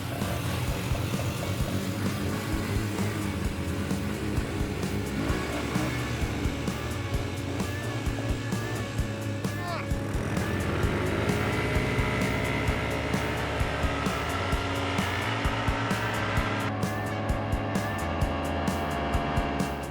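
Cheap ATV quads accelerate hard in a drag race on asphalt, a dense buzzing engine roar climbing steadily in pitch through gear changes, heard continuously with no talk.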